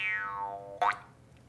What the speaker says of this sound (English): Lincoln breaks out the jaw harp